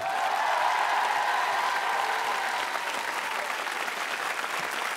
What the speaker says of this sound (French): elle applaudit